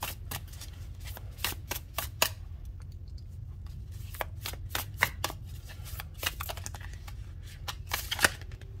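Tarot cards riffle and snap in quick irregular bursts, a papery shuffling repeated over several seconds against a low steady hum, no talking.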